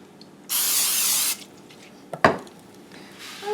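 A short hiss of cooking spray lasting about a second, followed by a light clink of a pan and quiet kitchen background.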